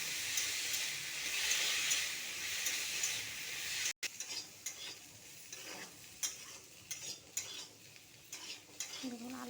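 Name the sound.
potatoes with salt and turmeric frying in oil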